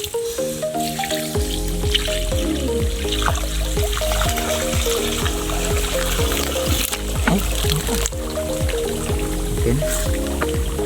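Tap water runs steadily into a fish tank holding tilapia fingerlings, a continuous splashing trickle with drips, heard alone over a steady tonal hum.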